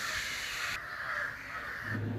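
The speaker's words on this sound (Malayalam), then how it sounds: "ഇതുപോലെ കാക്കയുടെ ശല്യമാണ് ഉച്ച നേരത്തൊക്കെ ഇതുപോലെ കാക്ക ശല്യമാണ്" Crows cawing in the afternoon around a house in Kerala, a sustained harsh call at moderate distance, clear and without talk.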